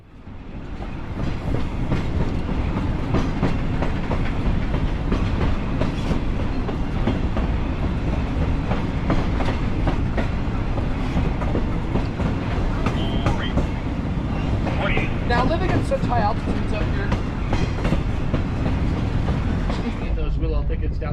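A 1,750-horsepower first-generation diesel locomotive of the Leadville Railroad, a former high-hood unit with a chopped nose, rolls steadily along the rails with continuous wheel clatter and rumble, occasional squeals, and a voice talking over it.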